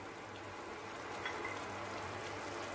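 Karela (bitter gourd) cooking in masala gravy bubbles in a pan, a steady quiet simmer with a soft broadband hiss and faint bubbling, no talking.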